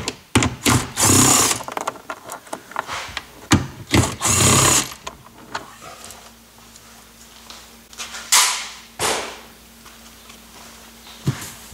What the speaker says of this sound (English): We're going to remove the two 10 mil bolts here